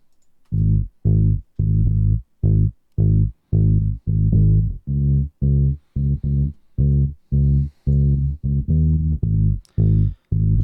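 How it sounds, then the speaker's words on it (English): Bass guitar run through the Neural DSP Archetype Corey Wong plugin on its J bass setting, playing a funky line of short, punchy, rhythmic notes, close and alone. "I ran it through the Archetype Corey Wong by Neural DSP, set to the J bass setting"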